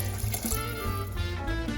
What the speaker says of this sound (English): I'm going to add about a cup of water,